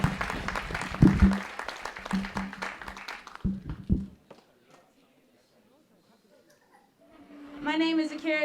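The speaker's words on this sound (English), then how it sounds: "Y'all give yourselves a big round of applause." Scattered clapping from a theater audience at a crowning ceremony, brief and uneven, fading into near silence before a voice speaks.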